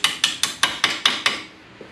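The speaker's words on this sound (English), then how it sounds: "I usually just give it a few taps like this." Hammer taps on a ball joint bolt on a Can-Am Maverick X3 being knocked loose during a Kryptonite ball joint replacement, seven sharp metallic strikes at an even quick pace, close and clear, with no talking.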